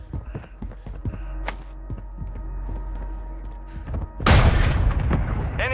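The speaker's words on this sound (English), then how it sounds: "Enemy precision airstrike. Find cover." Loud explosive boom erupts near the end of a precision airstrike in Call of Duty Warzone Mobile, a heavy blast with rumbling debris after earlier scattered thuds and hum.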